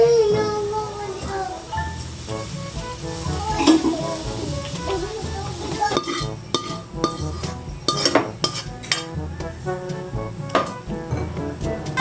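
Padas fish and green chili cook in a pan, with soft sizzling under clinking utensils and stirring clatter. A child and an adult talk at times throughout.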